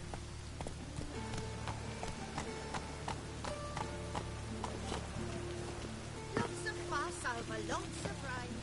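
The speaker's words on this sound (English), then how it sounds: "Lots of rain." Steady rain with scattered louder drops landing on nearby surfaces, a constant wash under faint background activity, heard alone at moderate distance.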